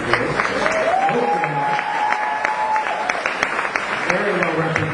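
A crowd claps for award winners at a Modesto, California peace essay contest ceremony honoring Oakdale Junior High School students. The clapping is moderate and scattered, mixed with a voice in the room.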